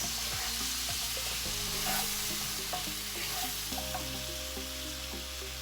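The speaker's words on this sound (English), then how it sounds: "Also, I'm going to add asparagus." Asparagus tipped into a hot pan of chopped tomatoes, setting off a steady loud sizzle and frying hiss with stirring scrapes and clinks close by, no voices.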